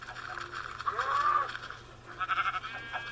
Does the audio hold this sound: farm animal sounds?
yes